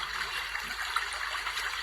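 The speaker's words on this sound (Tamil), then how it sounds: "வாருங்கள் நண்பர்களே, வந்து இந்த அருவியை காணுங்கள்." Water pours continuously over a waterfall at Minjur, a steady broad rushing hiss at moderate loudness with no voices.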